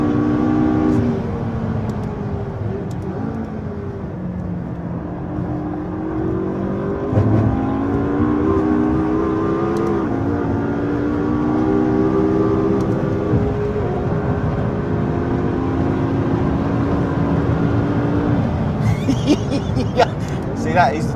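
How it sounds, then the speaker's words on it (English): A McLaren 650S supercar accelerates hard past a Porsche 911 GT3, its engine a loud, continuous drone with pitch climbing through the gears while someone talks over it. "I have just blown past the Porsche in a straight line."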